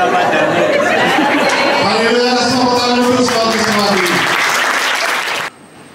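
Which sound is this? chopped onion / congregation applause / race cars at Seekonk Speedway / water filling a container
congregation applause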